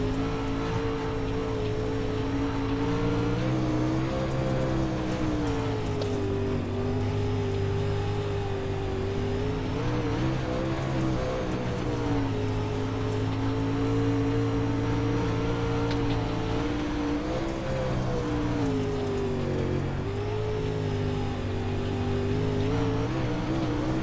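Stock race cars roar around Charlotte in a steady, loud, unbroken engine drone, with the pitch gently rising and falling as the pack runs on without a break.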